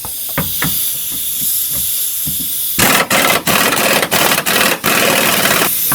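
Compressed air escapes in a broad steady hiss while a rear trailing arm is changed on a 2004–2008 Pontiac Grand Prix with the compressor off, first faint with light knocks, then loud and sustained with several brief gaps.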